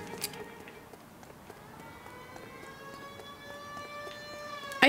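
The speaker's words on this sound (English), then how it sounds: "I hear sirens, but no more cops are showing up" Wailing police sirens in L.A. Noire rise and hold in the distance, steady tones drifting over a low background rumble with a few faint taps.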